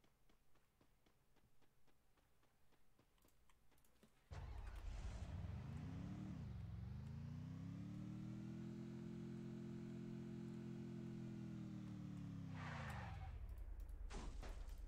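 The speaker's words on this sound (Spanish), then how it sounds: "Que el carro no frena mucho que se diga, ¿no?" A car in the video game Free Fire starts up abruptly after a quiet stretch with footsteps, then gives a loud, steady engine hum that rises in pitch, holds while driving, and dips near the end.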